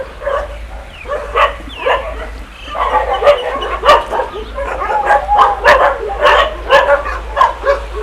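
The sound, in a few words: dogs barking in an animal shelter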